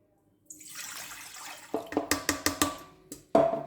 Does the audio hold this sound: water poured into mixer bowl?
yes